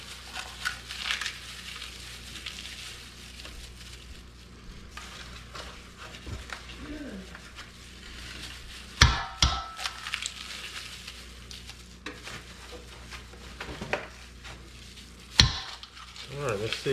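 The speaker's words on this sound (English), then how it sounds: "Dang, these eggs kind of hard to break." Eggs cracked by hand and their shells broken up in a bowl, crunching and brittle snaps with a few sharp knocks, close, alongside stretches of a person talking.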